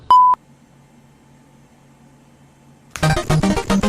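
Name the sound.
answering machine beep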